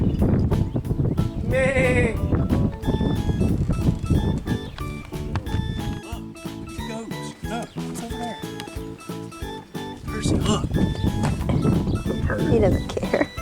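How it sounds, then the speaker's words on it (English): Goats bleat repeatedly amid a noisy farm scene, with people talking loudly over the animals and occasional clattering nearby. "Look at the goats"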